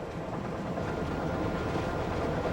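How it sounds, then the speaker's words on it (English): A steady low rumble of a train slowly climbing into the foothills on rails, continuous and close, with a faint rhythmic clatter beneath the heavy drone. "The train slowly climbs the foothills."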